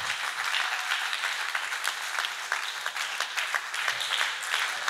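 A church congregation at a pastor's talk breaks into applause, a dense patter of many hands clapping at moderate distance that holds steady and a little faint for the full few seconds.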